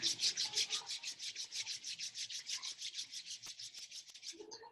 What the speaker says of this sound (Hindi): दोनों हाथ को आपस में रब कर लें